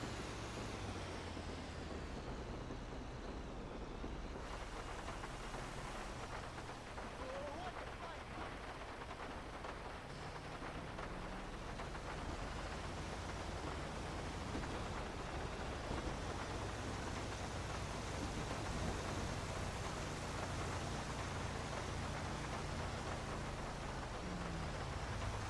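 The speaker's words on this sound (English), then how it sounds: "That's one thing that sucks when we gotta do the towing in the rain" Heavy rain pours steadily in GTA 5 while a heavy-duty wrecker tow truck drives to a towing job, a constant loud hiss of downpour with low vehicle rumble underneath throughout.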